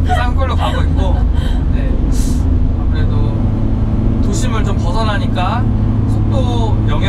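Kia Ray small car cruising at close to 100 km/h around 4500 rpm on a foggy mountain road, with a steady engine drone and road roar throughout and voices talking over it.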